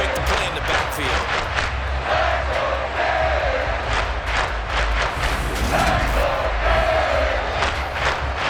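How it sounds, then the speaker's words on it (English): Stadium crowd at a Rams vs Dolphins game in Madden 23: a steady, loud roar of cheering that swells and dips in waves throughout, with no clear speech. "Crowd getting in it a bit already."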